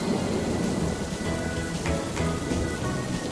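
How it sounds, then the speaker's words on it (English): Cartoon sound effect of steady rain pouring continuously while low thunder rumbles underneath, with a couple of brighter cracks partway through; dense, close and fairly loud. "It's raining"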